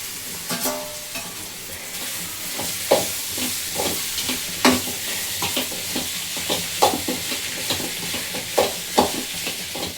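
Mashed boiled potatoes stirred into a sizzling pan of sothi curry, repeated scraping stirs over a constant frying hiss, close up with no voices.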